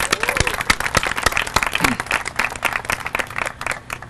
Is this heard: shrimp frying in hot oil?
no